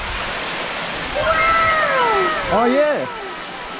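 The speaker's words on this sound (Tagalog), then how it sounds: "Ito na yung Karakawa Falls." Karakawa Falls pouring steadily as a broad, constant rushing wash of water, close and loud throughout, with excited exclamations from people over it.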